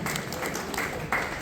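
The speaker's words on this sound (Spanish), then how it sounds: "Los aplausos para el profesor doctor Nelson Zacarías Ortiz" Audience applause at a Paraguayan duo music festival tribute, a steady wash of clapping from a crowd that swells slightly near the end, with faint voices mixed in.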